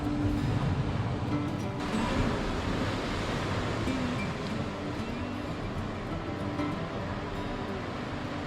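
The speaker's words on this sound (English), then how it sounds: "There's no wind, the waves are small, so the water should be clear." Small ocean waves wash steadily at an island cave on a windless day, a dense, continuous rushing roar that stays close and even, with no voices.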